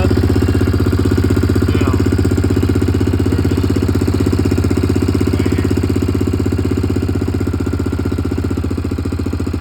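A 1998 Yamaha Grizzly 600 ATV engine idles high with a steady, loud, rapid mechanical chatter and constant low drone throughout, close by, with a brief spoken word near the start.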